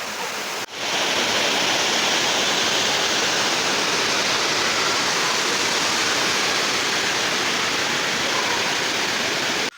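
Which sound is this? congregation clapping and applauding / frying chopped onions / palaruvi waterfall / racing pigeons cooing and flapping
palaruvi waterfall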